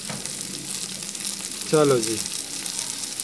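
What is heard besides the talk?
frying with crushed chilli and spices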